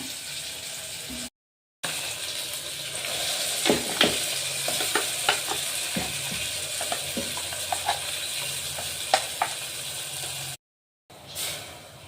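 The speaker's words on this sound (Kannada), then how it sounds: "ಈರುಳ್ಳಿ ಟೊಮೊಟೊ ಎರಡು ಫ್ರೈ ಆಗಿದೆ ಎಣ್ಣೆ ಚೆನ್ನಾಗಿ ಈಗ ಮಸಾಲೆ ಹಾಕ್ಕೊಳ್ಳೋಣ" Masala frying in hot oil over onion and tomato for a sprouted horse gram sambar, a steady close sizzle with scattered clicks and scrapes of stirring, broken by two brief silent gaps.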